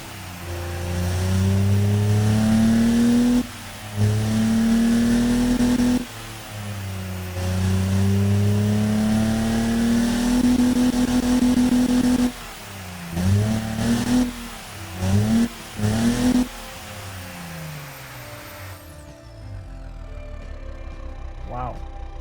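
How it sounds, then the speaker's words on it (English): A single-turbo inline six car engine revs repeatedly in long rising pulls and quick blips, loud and near, with a person talking briefly between revs before it cuts off. "Single turbo, not bad. All right, so let's fire it up."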